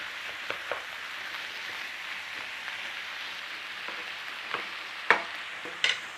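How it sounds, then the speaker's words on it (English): Minced beef stir frying in a pan with black pepper and Worcestershire sauce, giving a steady close sizzle with a few sharp scraping stirs near the end, no talking. "let's just start to stir fry all that in there together"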